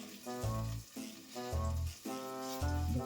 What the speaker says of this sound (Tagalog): At ang sibuyas. Haluhaluin mo at ikot-ikotin.